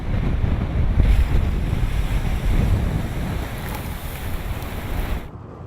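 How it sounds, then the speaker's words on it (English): Storm wind and huge waves batter the Welsh coast at Aberystwyth: a loud, continuous roar of surf and gusting wind buffets the microphone for several seconds before cutting off abruptly. "huge waves continue to batter the Welsh coast"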